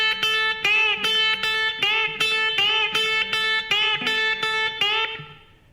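Electric guitar plays a rock lick with string bends, repeated picked phrases whose notes slide upward in pitch, bright and close, with a short fading tail at the end.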